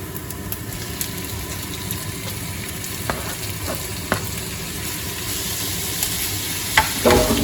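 Constant loud sizzling of freshly cut chicken frying in a pan with onion, with a few faint clicks and scrapes scattered through, no voices.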